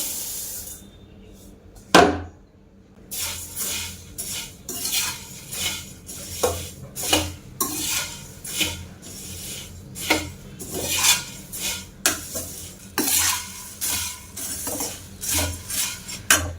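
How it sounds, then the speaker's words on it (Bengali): Dry grains rattle and scrape in a metal pan, stirred with repeated clinks and rustles of a utensil, steady and close throughout. "এই মুড়িটা প্রথমে ভাজা করে নেব"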